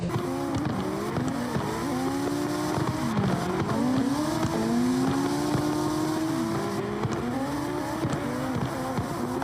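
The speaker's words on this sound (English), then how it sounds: "Watch these guys on this wall ride, man, all the way down." Race cars drift along a wall ride, their engines screaming in sustained, wavering howls that rise and fall in pitch, with a constant rush of tire noise. The sound is loud and continuous throughout.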